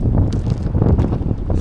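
Strong wind buffets the microphone on a Florida rooftop during roof soft-washing, a loud continuous low rumble with gusty fluctuations and no speech.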